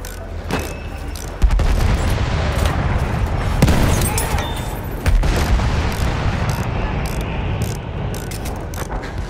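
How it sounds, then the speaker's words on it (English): Dense battlefield gunfire from the WWI shooter Battlefield 1, a continuous rattle of shots with sudden booming bursts at intervals, loud and sustained throughout. "There's a machine gun."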